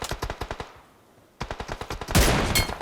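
Automatic gunfire rattles in a battle royale video game, two rapid bursts of sharp shots separated by a short pause, followed by a louder, dense burst at the end, with no talk over it.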